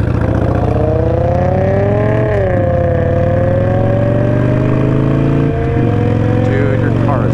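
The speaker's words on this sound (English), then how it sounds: "your car is loud" A loud, close Harley-Davidson Iron 883 Sportster engine drones steadily, its pitch rising and falling as it revs, with faint voices underneath.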